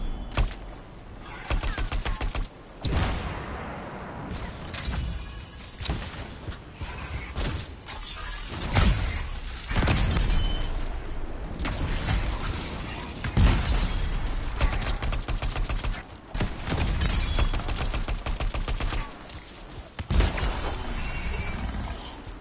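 Rapid, dense gunfire from a weapon in the video game Anthem, with sharp repeated bursts and cracking impacts that run almost continuously and loud, broken by brief gaps.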